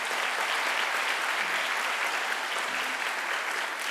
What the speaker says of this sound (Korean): 우리 이자영 사모님 목사님 박수로 환영하십시다